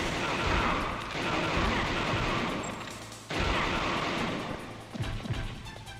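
Dense, sustained gunfire from a Metal Gear Solid battle rattles on for most of the stretch, with a short lull around the middle before the bursts resume, loud and close.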